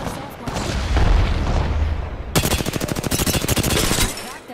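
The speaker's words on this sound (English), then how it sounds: "Opening fire on our friend." Heavy gunfire in the battle royale shooter Apex Legends: a dense opening burst, then a rapid automatic volley of evenly spaced loud shots, with some game sound and talk mixed underneath.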